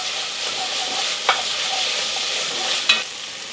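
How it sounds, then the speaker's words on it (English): Tomato frying and being stirred in a pan while making vegan Cincinnati chili, a steady close sizzle with two brief sharp scrapes of the utensil against the pan. "I just want to cook this tomato for about 2 or 3 minutes."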